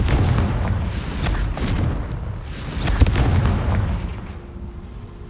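Spell blasts from the Confringo fire spell in the Hogwarts Legacy video game, a series of loud booming bursts with rumbling tails, repeated several times over a few seconds.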